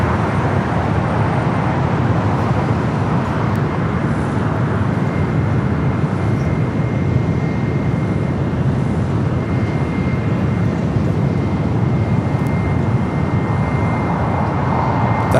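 A Cayman Airways airliner taxiing at Los Angeles International Airport toward runway 25 Right, its jet engines giving a loud, steady roar that holds for the whole stretch with no talk.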